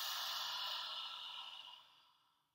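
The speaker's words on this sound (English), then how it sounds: "Breathe out for 3 seconds." A slow, steady breath exhaled during a calming breathing exercise, a soft airy whoosh lasting about two seconds before tapering off into quiet, close and gentle with no talking.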